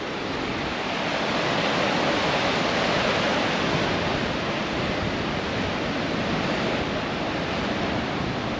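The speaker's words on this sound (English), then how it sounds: "Oh, check out some of them waves coming through there at the moment." Ocean surf breaking along the Great Ocean Road coast, a steady loud wash of crashing waves and foam roaring without pause, with some wind noise over the microphone.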